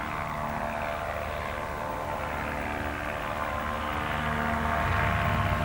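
A propeller aircraft drones steadily at a homebuilt and warbird fly-in at Mangalore, a faint, even engine hum heard at a distance throughout.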